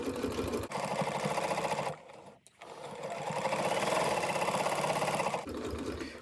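Sewing machine running steady and loud while back stitching a tote bag seam, a continuous mechanical whir with a brief pause in the middle before it resumes.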